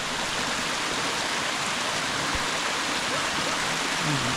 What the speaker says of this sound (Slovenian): Res pada z ogromno pečino. Mislim, da se imenuje slap pečine. Čist prosto padajoč slap.